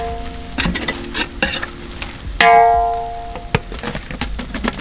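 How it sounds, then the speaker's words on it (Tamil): Onions frying in a pan with ginger garlic paste for country chicken biryani, loud close sizzling broken by repeated metal spoon scrapes and clanks against the pan, one ringing strike midway. "அடுத்து நம்ம இஞ்சி பூண்டு பேஸ்ட்டு போட்டு நல்லா மிக்ஸ் பண்ணிக்கிறோம்."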